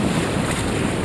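Wind roars steadily while a sailboat under full sail crosses the Georgia Strait. Broadband rushing wind and water noise fill the whole moment, loud and close against the microphone.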